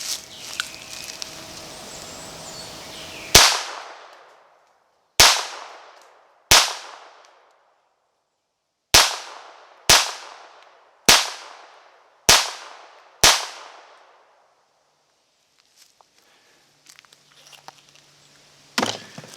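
A Ruger Mark II semi-automatic pistol chambered in .22 Long Rifle fires nine sharp, separate shots at uneven intervals, each a loud crack with a short decaying tail, followed by quiet handling noises.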